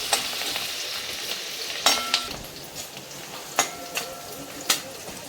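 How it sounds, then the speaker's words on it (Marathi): Garlic, green chili and grated ginger sizzle steadily while being stirred in a pan for hotel-style paneer chilli, with a few sharp utensil clinks on the pan rising above the constant frying hiss. "लसूण, हिरवी मिरची आणि आलं किसून घेतले ते टाकू आणि चांगलं परतून घेऊ"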